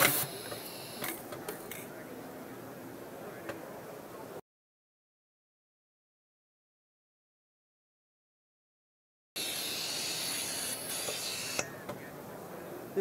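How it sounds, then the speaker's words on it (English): A Norgren vacuum material transfer pump moves a pill box at a trade show demonstration, giving a steady mechanical hiss and whir with light clicks and rattles. The sound runs in two stretches separated by several seconds of silence. "Here we have our material transfer pump for moving all types of materials."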